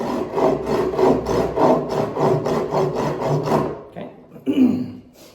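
A knife works a notch into bamboo with slow, steady rasping strokes, about a dozen even rubs close up, then a pause and a couple of lighter scrapes.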